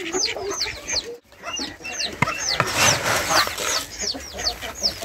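Backyard ducks and geese being fed layer feed give a steady, overlapping chatter of clucking, honking calls, close by and lively, with a brief lull early on.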